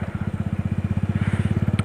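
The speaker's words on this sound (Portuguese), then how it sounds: "essa moto pra mim é que tem o barulho mais bonito de todos" Suzuki Bandit motorcycle engine heard up close, a loud, steady rapid thumping beat of regular firing pulses throughout, with no talk over it.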